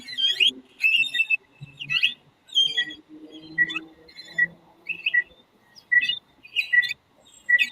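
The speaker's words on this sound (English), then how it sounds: "Birds." Several birds chirp and whistle in short bursts of bright, high tweets, repeated steadily and fairly close, with a faint low murmur beneath and no clear talk.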